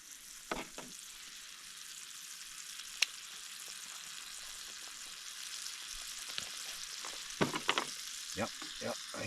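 Bread fries in butter in a pan at a canoe campsite, a soft steady sizzle with occasional scrapes and clinks of stirring, faint and close, and a person talks now and then.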